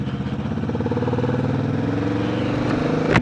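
Kawasaki Vulcan S motorcycle engine running steadily at a near, even idle, with a rapid mechanical pulsing clatter throughout and a sharp click near the end.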